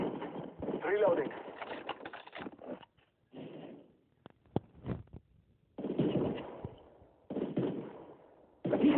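Enemy squad gunfire in Apex Legends: a few sharp, isolated shots crack out between bursts of in-game voice chatter.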